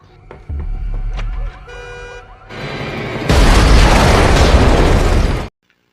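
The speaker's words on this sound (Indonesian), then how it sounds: "mendengar alarm mobilnya yang menyala" A car alarm wails from a vehicle outside a house in an action film, then a sudden loud explosion erupts close by and roars for a couple of seconds before cutting off.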